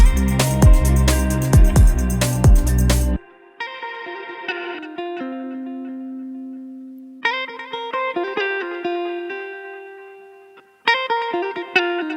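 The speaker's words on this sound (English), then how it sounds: "We can even add an echo on there as well, just to kind of make it feel wider. I put it on ping pong delay." Ping pong delay echo on a music edit of a pop track: a dense, loud mix cuts to sparse, tonal notes whose repeats bounce back and fade, then the full texture returns briefly.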